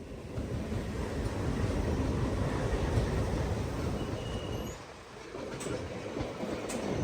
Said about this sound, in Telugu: ట్విన్ డీజిల్ లోకోమోటివ్స్ తో పుల్ అవుతుంది ఆ ట్రైన్.